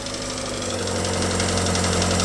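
A 1950s car engine, either a Renault 4CV or a Standard 8, idles steadily and fairly loudly up close, a constant hum with a faint rapid tappet ticking running through it, unbroken and without any voices.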